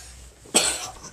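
A single short, sharp human cough rings out clearly against a quiet background.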